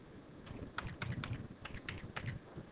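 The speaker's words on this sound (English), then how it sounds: "and I'd simply type the revenue" A computer keyboard is typed on to enter a revenue figure into a business calculation, producing a run of close, irregular key clicks with brief pauses between bursts.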